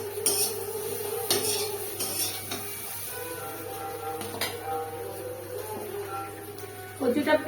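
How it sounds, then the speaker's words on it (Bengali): Taro (kochu) frying in a pan for a curry: steady soft sizzle with scattered scrapes and clinks of a utensil against the pan, and a louder clatter at the end, while a person talks. "সামান্য একটু কচুটাকে ভেজে নেবো"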